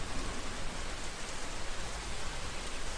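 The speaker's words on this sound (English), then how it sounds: "It had been raining most of the day, the sound of the storm almost drowning out the sound of the traffic below." Heavy storm rain used as a sound effect in an audio drama: a dense, loud, continuous hiss of downpour on surfaces with low rumbling underneath, and no voices.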